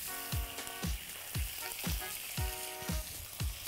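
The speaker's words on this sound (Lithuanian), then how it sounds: "ir labai ant aukštos temperatūros apkepiam ją" Minced rabbit meat fries over high heat in hot oil in a pan, a steady close sizzle broken by about eight rhythmic scraping stirs.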